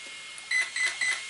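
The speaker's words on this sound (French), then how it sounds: "ça bip 4 fois, c'est prêt." A Team Associated RC8B3 RC car's electronic speed controller gives three short, high, evenly spaced beeps during setup over a faint background hiss.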